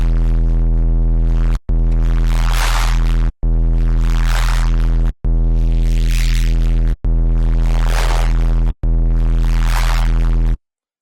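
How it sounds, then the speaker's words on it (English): A distorted drum and bass synth bass patch built from a water-like wavetable in Serum 2 plays six sustained notes with short gaps, a deep droning tone topped by crunchy sweeping grit. "you instantly get this like crazy crunchy top end if you add some distortion to that"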